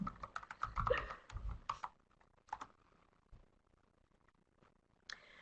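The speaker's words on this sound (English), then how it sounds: "I'll just type it in." Typing on a computer keyboard at a public library reference desk: a quick burst of keystrokes, then a few scattered taps and a final click, fairly close and alone without talk.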